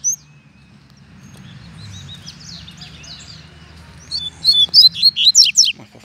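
A double-collared seedeater (coleiro) sings a burst of bright, rapid chirping phrases, faint at first and then loud and close in the final two seconds, over a low rumbling background.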